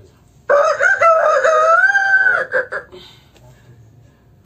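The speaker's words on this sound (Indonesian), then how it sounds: "Ayam Bangkok dari Thailand Sekarang ayam Jawa dari Demak" A Bangkok or Javanese rooster crows loudly and close, one long wavering call lasting about two seconds, followed by faint clucks and quiet background.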